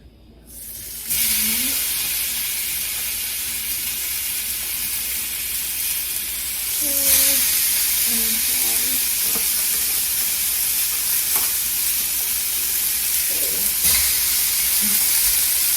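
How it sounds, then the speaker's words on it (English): Three burger patties drop into a very hot pan and set off a loud, steady sizzle that carries on throughout, with a few small utensil clinks on top, close up and without talk. "I'll cook this patty. It's like really hot now. So I'm cooking 3 patties."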